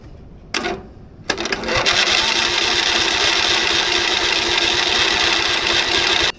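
A John Deere lawn mower engine with fresh gas and the choke on cranks over and over without catching, a steady loud mechanical churning that runs for several seconds after a couple of brief false starts.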